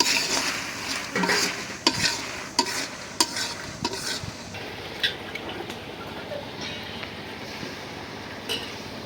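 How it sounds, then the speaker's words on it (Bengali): Dried chilies sizzle steadily in a hot pan while a utensil scrapes and stirs, with sharp clinks of metal against the pan. "আর এই শুকনো মরিচগুলি ভাজা হইতেছে"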